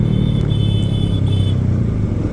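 Yamaha MT-15 motorcycle engine running steadily nearby on a city road, a loud continuous low rumble with a faint whine above it and no talk.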